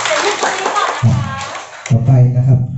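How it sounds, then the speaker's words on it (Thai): Wedding guests break into applause at a ceremony honouring the fathers, heard as a burst of clapping between stretches of loud speech from a voice on a microphone. "ปรบมือเป็นเกียรติให้คุณพ่อทั้งสองท่านด้วยนะครับ"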